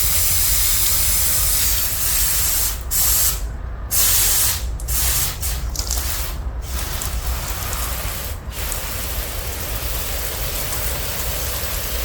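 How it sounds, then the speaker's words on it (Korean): Water sprays from a sprayer over freshly planted hibiscus cuttings in potting soil, a loud, continuous close-up hiss that pauses briefly several times before resuming, with no voices. "여러분들 가정에서는 뭐 물조르로 줘도 되고, 혹은 스프레이를 가지고 뭐 주셔도 되고"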